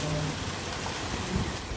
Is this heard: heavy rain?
yes